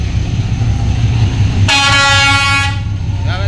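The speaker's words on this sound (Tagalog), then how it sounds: "Parating na yung train." Train arriving at a station, a low rumble of its approach building beneath a loud horn blast that sounds for about a second near the middle, then the rumble continues.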